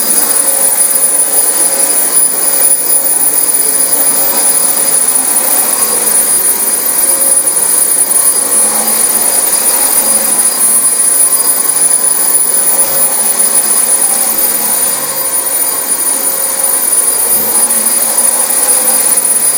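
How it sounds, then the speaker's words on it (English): A Dyson DC25 upright vacuum cleaner runs steadily on a dirty apartment carpet, a loud, continuous whine with a constant high tone and no pauses, close to the microphone and alone throughout. "This vacuum is not running at its full potential right now."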